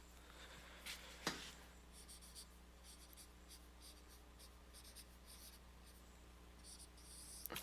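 Pen writing on paper, a faint, steady scratchy scrawl with a couple of sharper taps, close but quiet against a low background hum, with no talking.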